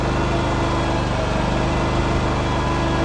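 A Scag lawn mower engine drones steadily while mowing a lawn, a close, constant mid-pitched hum with a fast regular firing pulse and no pauses.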